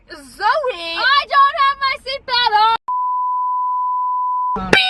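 A steady censor bleep added in editing, a pure continuous tone lasting about two seconds, follows a stretch of animated speech and cuts off abruptly as a voice returns.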